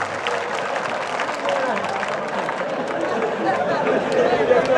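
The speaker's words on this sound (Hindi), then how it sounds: "एक बार तालियां बजा दीजिए" A comedy poetry gathering's crowd claps in a dense, continuous burst of applause mixed with audience chatter, swelling louder toward the end.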